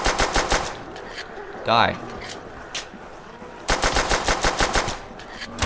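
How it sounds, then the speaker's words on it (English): Fast-firing gun in Call of Duty Zombies, Nacht der Untoten, heard as two loud bursts of rapid automatic shots with a voice speaking briefly between them. "god, the fire rate of the gun in this game is like really high"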